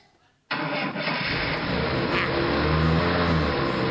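A car engine cranks and catches abruptly, then settles into a loud, steady idle running close by with no talk over it.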